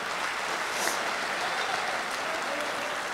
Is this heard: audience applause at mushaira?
yes